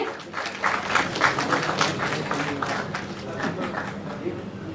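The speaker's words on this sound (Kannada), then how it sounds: "ಬಲಿ ಜೋರಾದ ಚಪ್ಪಾಳೆ" Audience applause at a motion poster and teaser launch event for a Kannada film, a dense steady patter of many hands clapping close by, with chatter mixed underneath.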